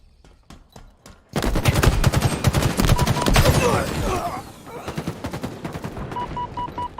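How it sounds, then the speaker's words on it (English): Rapid gunfire during a team match of a Halo video game, including pistol shots, with sharp repeated cracks that build into a dense burst and then thin out to scattered shots and game tones. "what a snipe with that pistol"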